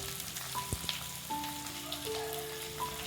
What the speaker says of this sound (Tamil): வெள்ளை பூண்டு போட்டுக்கலாம்.